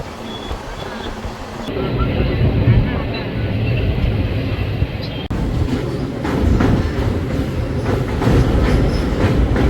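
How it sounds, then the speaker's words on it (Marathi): A passenger train rolls along steadily after departing Jabalpur, bound for Prayagraj, with a continuous loud rumble and rhythmic clatter of the carriages heard from inside, plus faint voices in the background. "आता जबलपूरपासून सुटलं आहे ट्रेन"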